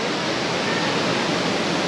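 Rushing river water near Tanawan Falls, a steady, loud broadband roar that fills the whole stretch without a break.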